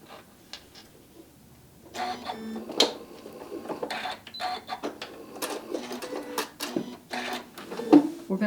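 Sewing machine running a simple edge stitch on stocking fabric, with short bursts of motor whir and needle clatter starting and stopping, close and moderately loud, no talking.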